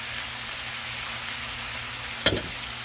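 Steady sizzling and bubbling from a pan of beef orange sauce with a little added water brought to a boil, with a brief clatter near the end.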